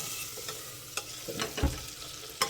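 Spices and turmeric powder fry in a pan for a fish curry: a soft, steady sizzle broken by scraping stirs and a couple of sharper knocks from the spoon.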